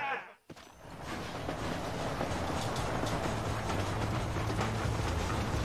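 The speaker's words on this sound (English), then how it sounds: "Hurry! The train is getting away!" A moving train in the Red Dead Redemption video game rumbles steadily and loudly, a dense continuous rolling clatter that starts after a brief dip and carries on with voices faintly mixed in.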